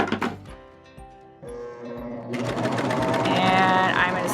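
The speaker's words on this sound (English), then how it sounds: "I'm going to stitch to the end of my fabric" A Baby Lock Vibrant sewing machine stitches denim fabric while inserting piping, first with a few spaced single clicks, then a loud, continuous mechanical whir of rapid stitching up close.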